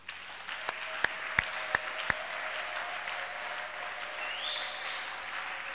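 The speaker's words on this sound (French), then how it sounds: "Alors je voudrais que tu acclames pour lui." A church congregation breaks into sustained applause after a few sharp, separate claps, with the clapping spreading into a steady crowd wash that holds fairly close and loud throughout.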